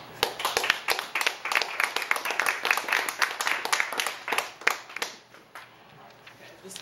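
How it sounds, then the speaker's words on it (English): An audience at a poetry reading claps in a dense burst of applause that fades out toward the end, followed by quiet room tone. "I'm censoring the applause too much."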